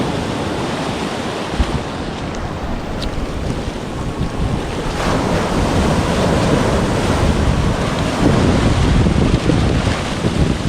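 Ocean waves break on the shore at Hibasa, a loud, continuous wash of surf that swells toward the end, with wind rumbling over the microphone and no talk.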